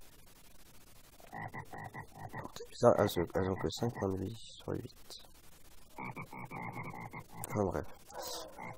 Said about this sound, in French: Donc ça c'est des grenouilles, mais un peu plus grosses que les grenouilles normales.